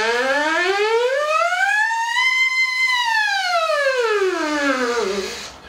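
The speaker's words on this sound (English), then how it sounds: "Real popular exercise are the siren exercises that you see demonstrated by Brad Good and, of course, Kenny Titmus" A brass player's lip-buzz siren exercise through a Warburton A.T.V. training device: one loud, sustained buzzing tone that glides smoothly up and then back down over about five seconds, heard alone.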